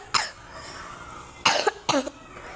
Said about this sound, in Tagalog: Inaubo din at sipon ako.